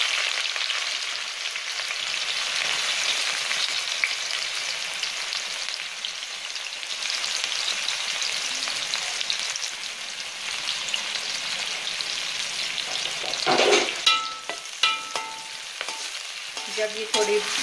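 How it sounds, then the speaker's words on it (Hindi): Chopped onions sizzle and fry in hot oil in a home kitchen pan for pea pulao, a steady bright crackle throughout with brief stirring scrapes and louder spitting near the end. "ऑयल गरम हो चुका है, अब मैं इसमें प्याज डाल रही हूँ।"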